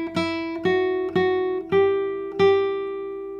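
Osamu Sakamoto concert classical guitar No.50, treble strings plucked as five separate notes at an unhurried pace, each ringing clearly and decaying, close and alone.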